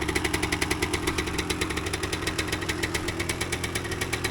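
A 1988 Yamaha DT200 motorcycle engine idles while warming up, with a steady, quick, even putter close by and no other sound.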